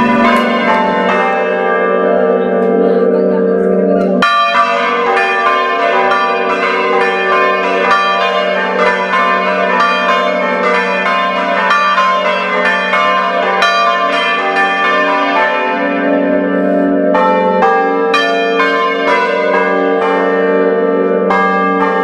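Church bells peal loudly and continuously at a national gathering of bell ringers, overlapping strikes ringing with long sustained tones and fresh strokes joining in, no voices.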